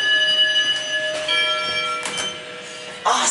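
Schindler 3300 machine-room-less traction elevator chime in a dark parking garage, a steady multi-tone ringing with sustained bright harmonics lasting several seconds, close and fairly loud, ending with a brief burst of noise.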